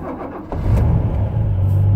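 A Ford Capri engine cranks briefly, catches and settles into a steady, rumbling idle, close and loud with no talking.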